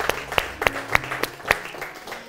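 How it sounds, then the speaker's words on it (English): A church congregation claps in a worship service, sharp individual claps landing at a loose, roughly steady beat over a low hum of room noise, with no talking. "Clap for Jesus."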